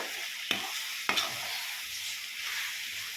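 Meal maker (soya chunks) curry stirred in a pan, a steady close sizzle of frying with two sharp scraping clinks of the spoon against the pan.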